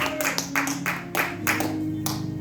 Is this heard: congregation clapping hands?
yes